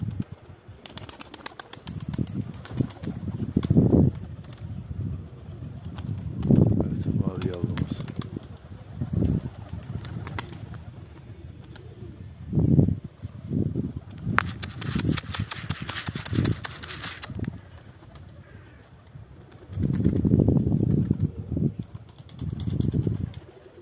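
Pigeons flap their wings in repeated bursts as a flock takes off and circles, with outdoor background noise and occasional voices.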